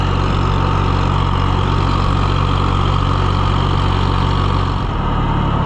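The engine of a John Deere 1020 tractor runs at a steady idle, a continuous low droning hum that stays even and close throughout.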